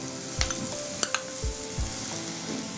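Grated beetroot and other vegetables added to a hot pot for borscht, with a soft steady sizzle and a few dull thumps and clinks as pieces drop in and get stirred.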